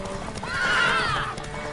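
A horse in the video game The Witcher III gives a loud, close neigh rising and falling over about a second, with hoof clatter and ambient game noise around it.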